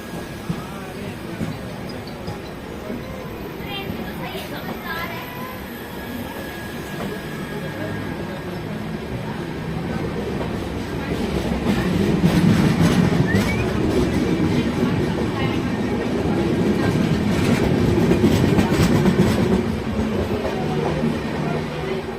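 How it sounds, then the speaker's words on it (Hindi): Link Express train rumbling past on the railway during an overtake, steady rolling wheel noise swelling louder midway and staying close, with faint squeal and clatter. "और फाइनली हमें लिंक एक्सप्रेस भी ओवरटेक मार के जा रही है।"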